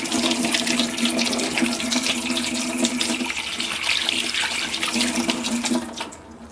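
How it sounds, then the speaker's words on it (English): Hands are washed under a running kitchen tap, a steady splashing stream of water that carries on for several seconds before easing off at the end, close and fairly loud, with no talking. "Just give my hands a little wash here."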